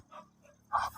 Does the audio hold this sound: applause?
no